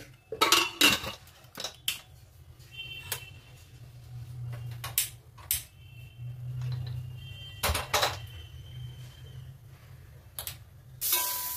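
A pot of dal with salt and turmeric is set onto a gas stove in a home kitchen: a scattered series of sharp metallic clinks and clatters over a quiet low hum, with no talking.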